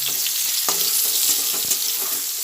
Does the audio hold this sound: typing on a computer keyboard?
no